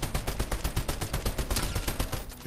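Rapid automatic gunfire from a gun in Fortnite, a fast regular burst of sharp, loud shots running about two and a half seconds with no pauses.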